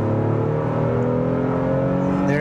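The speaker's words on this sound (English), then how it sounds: "You can hear the engine definitely. Get it up to 60 miles per hour." Engine of a 2023 Honda Pilot Trailsport SUV accelerating toward 60 mph, a loud steady droning hum with smoothly rising engine tones, heard from inside the cabin with no talking.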